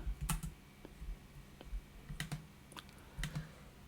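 Keys on a computer keyboard are tapped in small, faint clusters, with short gaps between groups of clicks against a quiet room background.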